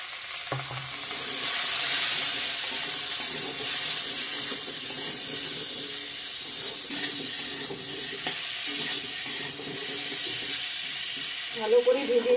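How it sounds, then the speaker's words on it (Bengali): Potato pieces frying in a pan with salt and turmeric, a steady sizzle with scraping and stirring strokes throughout, and a few louder clatters near the end, no speech. "ভালো করে ভেজে নেব আলুটা"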